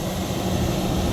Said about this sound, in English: Sorry about the wind